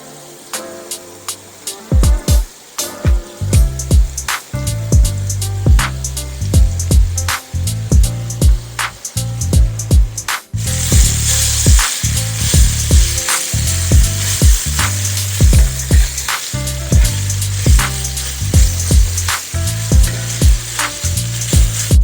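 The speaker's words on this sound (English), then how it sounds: "pour your little cooking oil in your skillet, and then we want to put our pieces in here and get them seared off" Floured beef pieces sear in cooking oil in a skillet, giving a loud, steady sizzle with repeated sharp taps and scrapes of a utensil against the pan.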